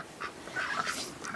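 Ducks housed with chickens in a covered coop run call out with a few nasal quacks, moderately close and fairly loud, with no talking.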